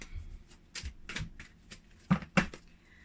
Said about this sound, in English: So we're just shuffling the deck